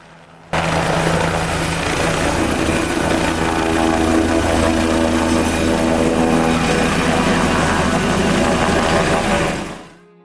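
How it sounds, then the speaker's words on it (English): A helicopter's rotor and engine run loud and close, a steady droning whine with rhythmic blade chop that starts abruptly, holds for several seconds, then fades at the end, with no talking. "It is this lift which overrides the overall weight of the helicopter and any cargo or passengers to begin to rise off the ground."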